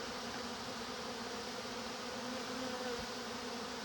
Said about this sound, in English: these crazy bees are all in my shop